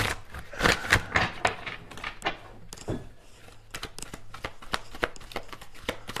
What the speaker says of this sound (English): you guys know I'm shuffling in